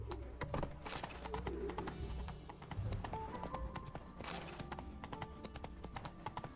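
Hooves of Geralt's horse in The Witcher 3 video game clatter in a fast, steady galloping rhythm, loud and close over a rumbling ambient game soundtrack, with no voices.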